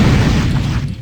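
Alternate fire of the Cleric's weapon in the game Wrath of Cronos, a loud, dense booming blast with a low rumbling body that carries steadily through the moment and thins out briefly near the end.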